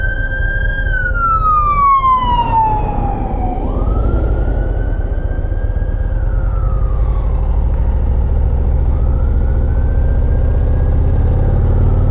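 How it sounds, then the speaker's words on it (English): An emergency siren wails loudly over a rumbling engine, its pitch sliding down then rising and falling in long sweeps, very close. "Hear a siren."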